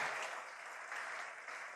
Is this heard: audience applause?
yes